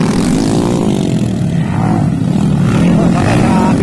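Underbone racing motorcycles at a circuit race give a loud, close, continuous engine roar that holds at high revs throughout, with faint voices underneath.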